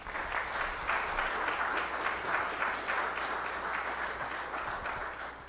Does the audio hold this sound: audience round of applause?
yes